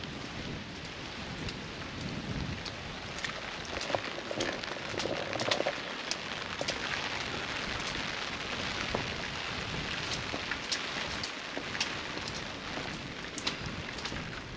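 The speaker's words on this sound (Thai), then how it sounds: "ฝนตกจริงๆฝนตก แต่ว่าไม่แรงหรอก" Light, steady rain falls on a misty mountainside at Phu Thap Boek in Phetchabun, forming a continuous soft hiss with scattered drop ticks and no voices.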